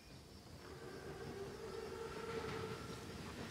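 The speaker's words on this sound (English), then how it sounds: "Train's right on time." An armored WWII Panzerzug rolls along the tracks in Call of Duty: WWII, a steady low rumble of wheels and cars with a faint high whistle-like tone, continuous and moderately close, no voices.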